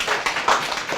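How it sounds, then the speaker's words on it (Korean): A church congregation at a Sunday worship service claps together in a brief burst of close, dense hand claps, with no talking. "박수 좀 한번 하세요"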